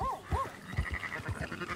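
A few short sheep bleats in Red Dead Redemption 2 ring out over a soft background of game music and ambient tones, fairly close and moderately loud.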